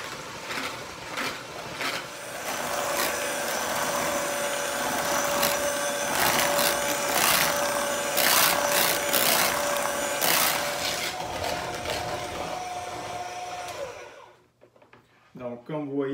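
An electric mixer whips cream sweetened with powdered sugar for a trifle, a steady motor whir with rattling bursts that runs for about fourteen seconds, then cuts off, leaving a few quiet handling sounds.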